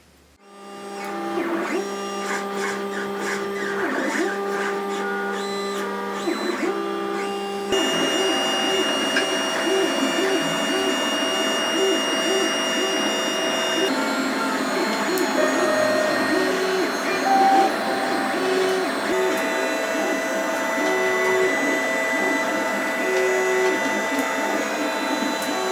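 A 3D printer runs close by printing battery box parts, its stepper motors whining in shifting tones and short repeating patterns that grow busier after a few seconds, with no voices.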